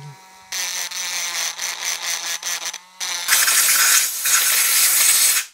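Dremel rotary tool smoothing a part of a 2007 KTM 250 EXC engine block, a loud high whine in bursts with short pauses, then a harsher grinding roar as the bit bites into the metal, close up with no talking.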